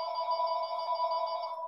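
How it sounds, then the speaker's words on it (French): A mobile phone rings loudly and steadily in a continuous electronic tone, heard alone during a drop-spindle spinning lesson. "J'aurais dû arrêter mon téléphone."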